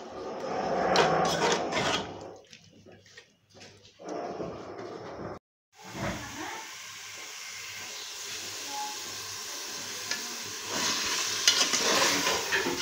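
Pumpkin and mutton curry with tomato paste is stirred in a pan, giving scraping and sizzling hiss with uneven bursts and a brief dropout partway through.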